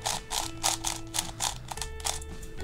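A DaYan FTO magnetic octahedron puzzle being turned by hand, giving a quick series of crisp plastic clicks and ratcheting snaps in an uneven rhythm, close and fairly quiet, with no talking.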